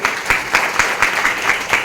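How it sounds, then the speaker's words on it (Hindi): Audience applause for a speaker at an MLM gathering, a steady wash of many hands clapping with a few sharper accents, loud and close, with no talk over it. "एक बार जोरदार ताली चाहता हूँ"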